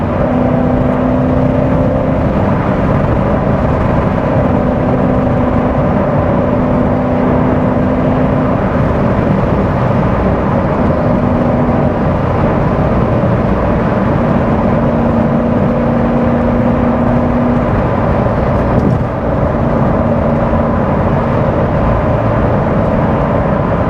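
A manual Chevrolet Corvette C7 Z06 pulls at full throttle, heard from inside the car. Its engine roars loud and constant for the whole stretch, with a few faint shifts in pitch as it climbs.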